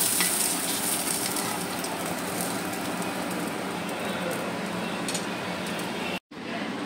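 Rava-coated fish fries in a pan with a steady, loud sizzle that holds evenly and cuts out briefly near the end.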